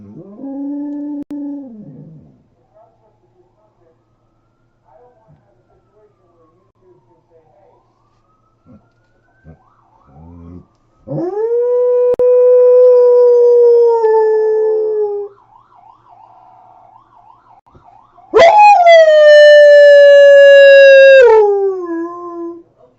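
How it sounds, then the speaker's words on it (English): A dog howls in long, rising and falling tones, singing in several drawn-out bursts close to an indoor microphone, with quiet gaps and small sounds between the howls. "My dog is going to start singing."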